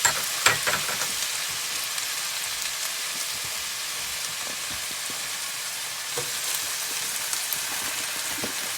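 Bok choy fries in a hot skillet with a steady, bright sizzle, close and continuous, with a few louder pops at the start as the greens hit the pan.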